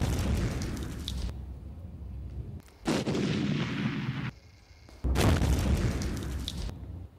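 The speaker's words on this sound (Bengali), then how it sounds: "নিয়ন্ত্রণ রেখার ওপারে পাক সেনার একাধিক পোস্ট ধ্বংস করেছে ভারতীয় সেনা" Heavy artillery blasts and explosions hitting army posts along a military border line, rumbling in three long, loud bursts separated by brief quieter gaps, each with a booming, reverberant tail.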